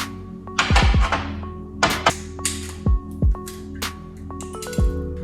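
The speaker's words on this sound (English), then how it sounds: "we're going to crack the egg and then remove the yolk" An egg is cracked and separated for an elderberry sour cocktail: a few close, dull knocks and light shell taps with small wet drips between them, heard alone without talk.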